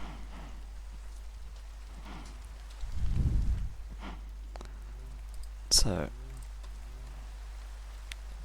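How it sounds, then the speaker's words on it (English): Rain falls steadily in Minecraft at night, a soft constant patter with a low rumble partway through and a sharp click later, as someone speaks briefly. "It's always nighttime and it's always raining."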